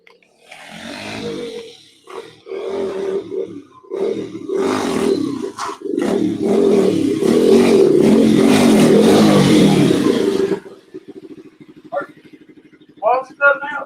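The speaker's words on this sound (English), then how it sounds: "We're gonna give you a little burnout." Motorcycle doing a burnout at a garage meet-up, engine revving loudly and sustained for several seconds before cutting off, with crowd chatter and voices around it.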